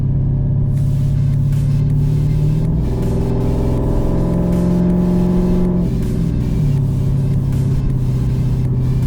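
A carbureted car with a manual-style transmission revs up through first, second and third gears, the steady engine drone rising in pitch and dropping at each firm shift, loud and close with no talk.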